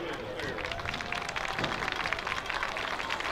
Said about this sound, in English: Let's clap it up for our injured player